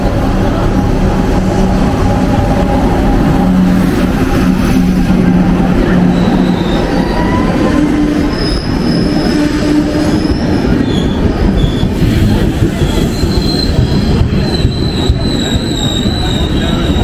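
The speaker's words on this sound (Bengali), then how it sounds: "ফাইনালি 15 মিনিট লেটে ট্রেন ঢুকছে।" A late Howrah–Tatanagar passenger train pulls into a station, its wheels squealing in high, sustained whines over a loud, steady rumble and clatter of rolling cars throughout.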